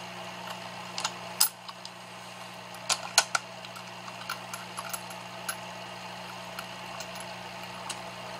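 A cartridge is loaded by hand into an M44 bolt-action rifle, with scattered sharp metallic clicks and taps over a faint steady hum, close and fairly quiet.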